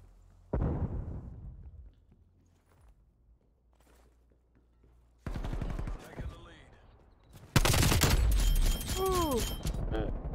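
Gunfire bursts in a competitive first-person shooter match, arriving in loud clustered volleys after a quieter stretch, with players talking over the action.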